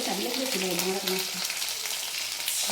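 Vegetables hiss and crackle in hot oil with five-spice tempering in a kadai, a dense, loud sizzle carrying brief faint voice-like tones early on, otherwise no talk.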